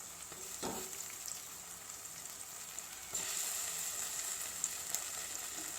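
Ginger garlic paste sizzles in a hot pan for Telangana-style tomato pappu, a steady close frying hiss broken by a few scraping stirs, with the sizzle swelling louder partway through.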